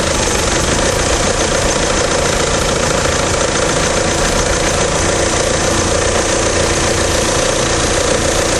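A GM 2.0-litre 8-valve engine in a Vectra idles steadily with a loud, continuous, slightly knocking mechanical hum as an injector is cut, without any voices.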